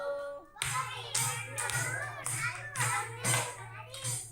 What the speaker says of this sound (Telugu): చిట్టి పాప నిద్రలేసి చప్పట్లు కొట్టింది 10